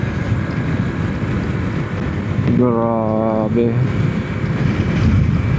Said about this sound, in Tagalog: lakas ng hangin, ha?